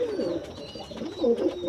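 Close, soft cooing comes from a newly paired Kantewala female and Kasuri male pigeon, in short warbling phrases that rise and fall in quick succession.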